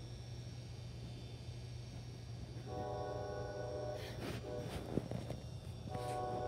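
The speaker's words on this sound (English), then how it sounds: "Every single night, trains come." A distant CSX train rumbles by with a low steady drone, and a faint horn sounds in sustained tones partway through.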